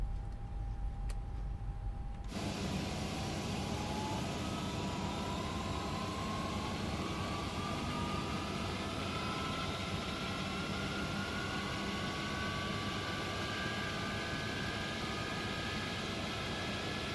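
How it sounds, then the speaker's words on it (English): Both airplane engines start together in a flight simulator game. A loud, steady broadband roar kicks in abruptly after a short quiet moment, with tones slowly rising as the engines spool up and then holding constant. "We're going to start both engines at the same time."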